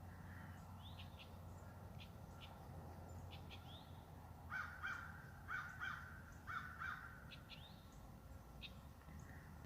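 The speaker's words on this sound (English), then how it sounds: "The crows are out and about, man." Faint crows caw in short repeated bursts at a distance, over a low steady outdoor rumble.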